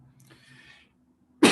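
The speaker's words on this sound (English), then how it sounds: "Excuse me, I have to be coughing." A single loud, close cough bursts out at the end after a brief faint murmur and a moment of silence.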